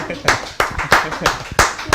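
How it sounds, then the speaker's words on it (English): Clapping at a Father's Day show, a handful of sharp, distinct claps landing in a fairly regular rhythm about three per second, close and loud, with voices faintly underneath. "Let's clap for Victor for this."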